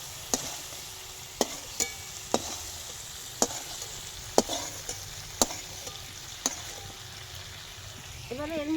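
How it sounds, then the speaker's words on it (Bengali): Shrimp fry lightly in a pan with a soft, continuous sizzle. Sharp clicks of the stirring utensil against the pan punctuate it at roughly regular intervals, and a brief voice comes in at the very end. "একটু চিংড়িগুলো ভাজা ভাজা করে নিচ্ছি"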